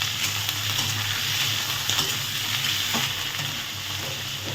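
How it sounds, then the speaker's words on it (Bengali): Onion and potato fry in a home kitchen pan with a continuous close sizzle and faint stirring scrapes. It runs steadily at moderate loudness with no talking. "আলুর সঙ্গে পেঁয়াজ ভাজা হয়ে যাবে।"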